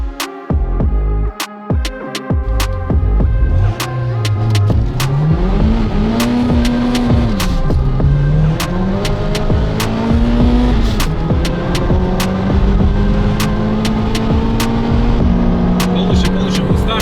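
A Toyota Celica races from a standing start, its engine revving hard and climbing through several gear changes. The loud, close engine note rises and falls continuously.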